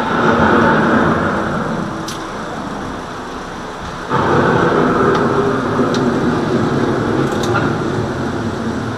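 Deep, rumbling thunder from an approaching storm rolls loud and continuous, fading briefly and then swelling again, with rain hissing underneath throughout.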